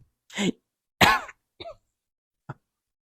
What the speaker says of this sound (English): Wenzel just coughed and shook his head yes